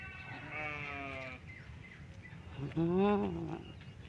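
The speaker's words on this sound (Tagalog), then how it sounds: "Uy, may malaking kambing." A large goat bleats twice on a new farm, a wavering cry followed by a louder, closer one, over low outdoor background noise.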